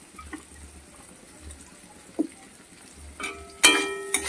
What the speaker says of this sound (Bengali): সবজির সঙ্গে কাজু কিশমিশ একসঙ্গে ভেজে নেব 1 মিনিটের মতো।